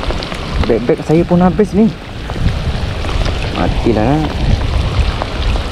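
Steady rain pours down on a fishing outing, a dense hiss running the whole time beneath a voice speaking excitedly in Malay.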